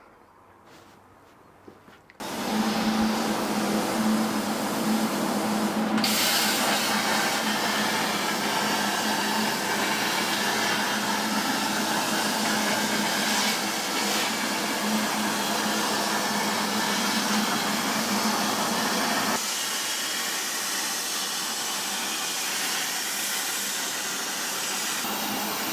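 A CNC plasma cutting table cuts 20 by 3 mm steel strip, starting abruptly after a quiet moment with a loud, steady hissing roar that holds for many seconds, then drops to a lower hiss near the end.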